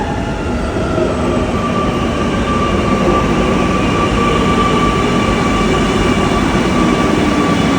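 Steady, loud rumble of a metro train ride in Ernakulam, heard from inside a carriage, with a continuous drone and faint tonal whine running throughout and no voices.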